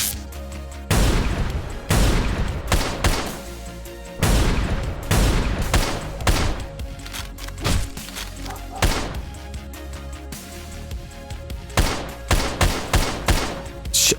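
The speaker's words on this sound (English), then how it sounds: "they were shooting at me from a point I didn't even know you could shoot from" Enemy gunfire in the video game Hunter: Brotherhood, with repeated sharp shots and bursts cracking out close and loud in an irregular volley, some in quick clusters, with brief gaps between.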